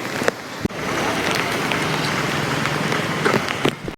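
Heavy rain pours down in Junagadh, a dense, steady hiss of water on surfaces lasting throughout, with a few sharper drop or splash knocks standing out near the start and end.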